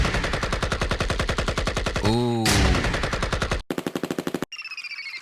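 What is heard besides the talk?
gunshot sound samples from a drum library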